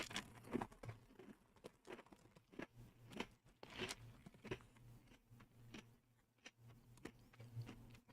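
Someone eats light, salty Popchips rice crisps close to the microphone, with a quiet run of crisp bites and crunching chews at irregular intervals over a low background hum.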